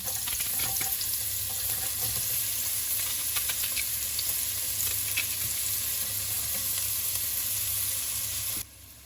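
Chopped onion fries in about three spoonfuls of vegetable oil in a pan, a steady bright sizzle with occasional small pops, cutting off sharply near the end.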